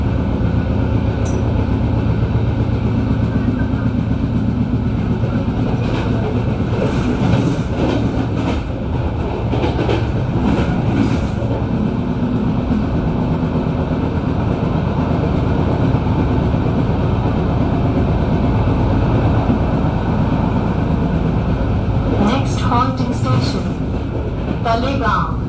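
An Indian Railways train running between Mumbai CSMT and Pune gives a steady, loud rumble with wheel clatter throughout. Brief hissing bursts rise above it, and a voice is faintly present.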